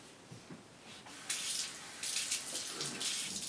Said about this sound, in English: I'm just going to wash these up real quick